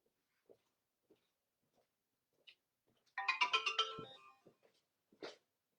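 A mobile phone ringtone plays a short melodic burst of bright tones for about a second, close and clear, set among faint scattered clicks in an otherwise quiet room at a family-law conference.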